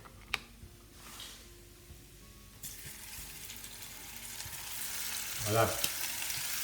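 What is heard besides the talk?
turkey escalope frying in a pan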